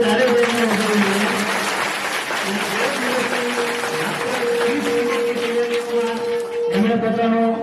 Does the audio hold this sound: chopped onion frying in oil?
no